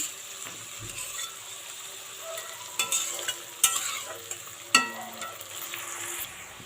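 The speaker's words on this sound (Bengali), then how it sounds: "ততক্ষণ এটা ভাজা হোক" Seafood clams fry in a pan for a South Indian recipe with a continuous sizzle, broken by sharp spoon scrapes and knocks against the pan as they are stirred. No one speaks.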